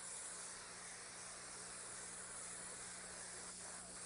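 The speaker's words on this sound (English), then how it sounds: "I'm just going to lightly spray this." Hot green paint sprayed lightly onto a t-shirt from an aerosol can, a steady close hiss of spray running continuously with no pauses.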